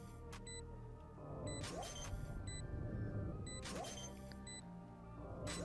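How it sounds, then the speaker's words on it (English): Spike defuse sound from the video game Valorant, a faint, repeating mechanical ticking and metallic clicking with bright tonal beeps at intervals, steady throughout with no talk. "So the normal diffuse sound sounds something like this."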